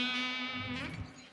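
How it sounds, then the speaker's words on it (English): A loop pedal repeats a sustained, buzzy electronic tone with a steady low drone beneath layered harmonics, thick with chorus and distortion, loud and close, fading slightly at the end. "I'm using my loop pedal."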